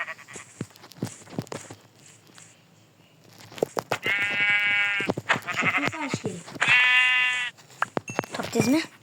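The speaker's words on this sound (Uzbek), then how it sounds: "qo'ylarga chopib chiqyapman." Sheep bleating in the Minecraft video game, two long wavering bleats over scattered footstep clicks and quick game sounds, with players talking before and between them.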